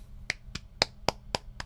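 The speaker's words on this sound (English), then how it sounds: "Golf clap." A slow golf clap, six light, evenly spaced claps or snaps about a quarter second apart, close and crisp over a faint low hum.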